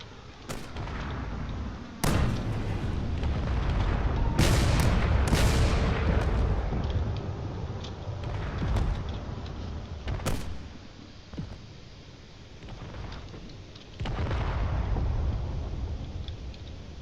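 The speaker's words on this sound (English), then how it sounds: "this ship is still firing its cannons it still has on board, even though its AI has been completely destroyed" Heavy cannon fire from a damaged spaceship in a space combat video game, a run of loud booming blasts with long rumbling decays, repeating irregularly throughout with no talk.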